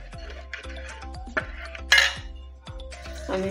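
Egg white worked into dough in a bowl, a steady run of scraping clinks and knocks from a spoon against the bowl, close and repetitive, with a brief louder clatter midway.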